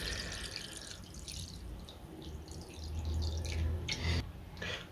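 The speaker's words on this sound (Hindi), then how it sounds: "अब एक स्टेप हमने सबसे पहले करना है कि इसके अंदर 1 लीटर हमने पानी ऐड करना है।" One litre of water pours from close by into a bowl of aloo bukhara (dried plums) while chutney is made. The pour is a steady trickling, splashing stream that swells toward the end, with no talk.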